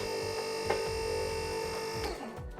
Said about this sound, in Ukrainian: Цією кнопкою у нас підйом вгору.